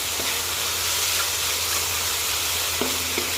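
King oyster mushrooms stir-fried dry with holy basil in a pan: a dense, constant sizzle and hiss, close and steady, with faint scraping and a brief clink near the end.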